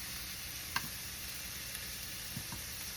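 Two pieces of thick cut bacon frying in a pan give a steady, quiet sizzle that runs throughout, with a few faint ticks and pops.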